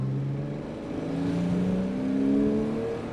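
A 1999 Porsche Boxster engine accelerates hard, its tone rising steadily through the revs, heard up close from inside the car without any talking.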